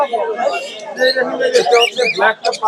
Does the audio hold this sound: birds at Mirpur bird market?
yes